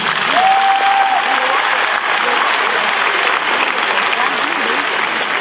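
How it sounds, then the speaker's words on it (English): Graduating seniors at a high school graduation ceremony applaud their loved ones, a large crowd's steady, loud wash of clapping filling a big venue throughout, with faint cheering and murmured voices mixed in. "Seniors, I ask that you clap it up for all of your loved ones this evening."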